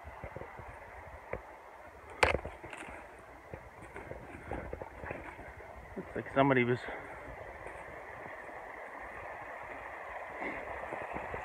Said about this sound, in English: Creek right there.